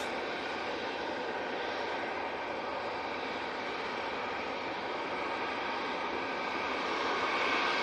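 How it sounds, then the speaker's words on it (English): An Aer Lingus passenger jet at Manchester Airport gives a steady, loud broadband engine roar that holds for the whole stretch and swells slightly near the end, with breezy outdoor air around it. "Right, here's the Aer Lingus."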